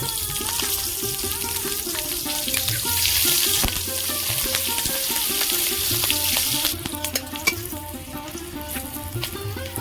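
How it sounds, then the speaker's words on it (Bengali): Black cumin seeds and slit green chillies fry in leftover hilsa fish oil, a loud, dense crackling sizzle with rapid popping and a few stirs, close up and continuous, no talk. "কালো জিরে আর কাঁচা লঙ্কা আমি ভালো করে ভেজে নিয়েছি"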